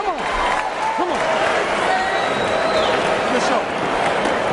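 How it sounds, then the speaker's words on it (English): A boxing arena crowd roars steadily behind Evander Holyfield late in a round against James Toney, with dense cheering, clapping and scattered shouts and whistles, loud and continuous. "the crowd getting behind Holyfield at the end"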